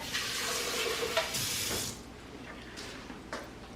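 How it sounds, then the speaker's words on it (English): Water pours into a blender for handmade paper pulp, a loud rushing splash for about two seconds that then drops to quieter trickles and small sloshes. "Let me put some water in here."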